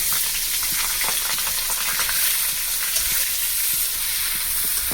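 Onions frying in hot oil tempered with bay leaf, dried red chillies and five-spice, a steady close sizzle and hiss running evenly throughout with no talk.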